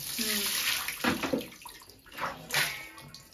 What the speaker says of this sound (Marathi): तर शेवळी आपली धुवून झाली आहेत मस्त पैकी